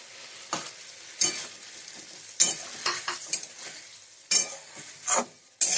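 Poppy seed paste curry with ivy gourd and stock cooks in a pan. A soft sizzle runs under a series of sharp scraping strokes from a spoon, coming in irregular bursts and close by.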